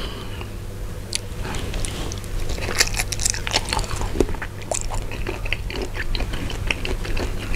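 Big Korean pickled shrimp marinated in spicy Korean sauce being bitten and chewed up close: wet crunching and crackly snaps in an irregular rhythm over a low steady background hum, with no talking.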